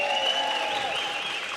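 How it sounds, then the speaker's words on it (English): Applause fills a strongman press conference hall, a dense, steady round of clapping from the audience with no voices over it. "Give them a proper round of applause,"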